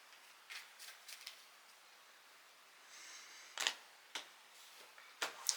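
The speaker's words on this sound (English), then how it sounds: "But we're going to cut the deck." A tarot card deck is cut and handled, with a few soft riffling card sounds early and then sharper snaps and taps as the cards are split and set down, close and quiet.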